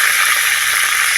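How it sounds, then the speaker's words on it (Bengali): Pointed gourd (potol) pieces frying lightly in hot oil give off a loud, close, continuous sizzle with no voices. "হালকা করে একটু ভেজে নিতে হবে।"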